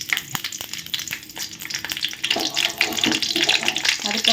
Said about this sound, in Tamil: இப்போ இதில் பெருஞ்சீரகத்தை போட்டுக்கலாம். நல்லா பொரியட்டும்.